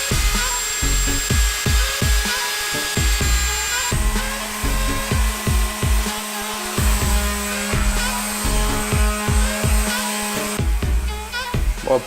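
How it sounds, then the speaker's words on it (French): A loud wood router whines steadily with repeated bursts of cutting and grinding as it rounds the edges of a wooden lamp, the motor pitch dipping as it bites into the edge. "Je vais aussi venir à la défonceuse faire des arrondis sur les bords"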